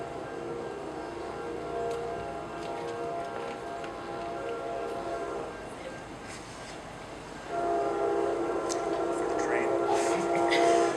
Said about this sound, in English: Train, one moment.